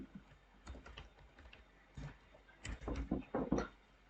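Faint computer keyboard typing, soft scattered keystrokes growing into a denser burst near the end, heard at low level against a quiet room hum while code is entered.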